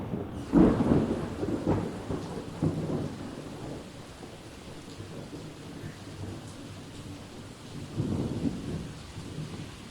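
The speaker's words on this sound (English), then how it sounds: "it is raining hard" Heavy rain pours steadily in a staged drama scene, with two loud thunder rumbles rolling through, one near the start and another toward the end.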